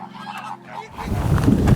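Wild flamingos give harsh, goose-like honking calls, a few rough squawks rising toward the end over a growing wash of outdoor background noise, fairly close and loud.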